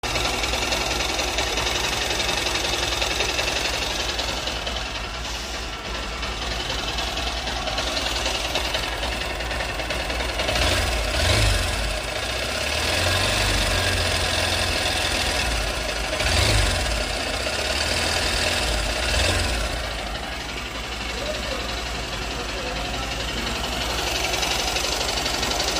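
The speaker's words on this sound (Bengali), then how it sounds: "চলুন বাইকের সামনে আওয়াজটা দেখ" A Honda Unicorn BS VI 163cc motorcycle engine idling close by, a continuous rapid ticking, knocking chug that holds steady with slight swells in loudness.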